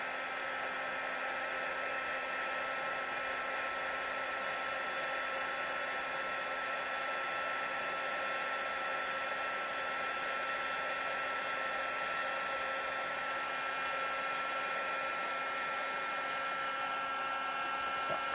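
A heat tool blows steadily on stamped card stock during card-making, a constant close whir with a high whine that runs evenly and unbroken.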